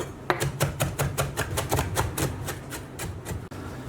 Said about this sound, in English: bring across a quarter cup of fresh parsley, and we just want to finely chop this